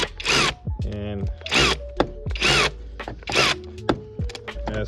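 Electric wrench whirring in repeated short bursts while tightening bolts on the engine of a 2014 Ford Focus SE, close and fairly loud, with someone talking in between.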